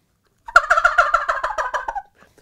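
A homemade latex gobble tube call imitating a turkey gobble: one loud, close, rapid rattling burst of about a dozen pulses lasting around a second and a half, then silence.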